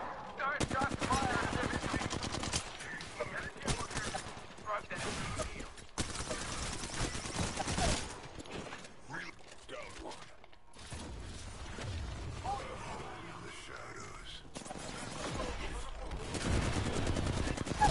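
Rapid bursts of automatic gunfire in the Apex Legends video game, clattering volleys interrupted by short gaps, dense and fairly loud, with mechanical reload clicks mixed in.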